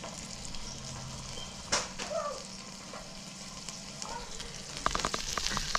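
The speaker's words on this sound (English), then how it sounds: "We've got a searing going on one side" Pork chops sear on a Coolabah Mini Charcoal BBQ, a soft, steady sizzle with a sharp clack early on and louder crackling spatters toward the end.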